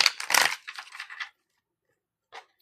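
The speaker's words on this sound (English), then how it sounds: "Let me shuffle this up real good." Tarot cards being shuffled, a close papery riffle and flutter for about a second and a half, then silence and one short final snap of cards near the end.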